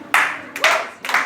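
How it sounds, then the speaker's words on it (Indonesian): Audience at a church Bible-reading contest applauding a contestant, with short bursts of clapping in three quick waves, close and fairly loud. "berikan tepuk tangan untuk peserta nomor undi 16"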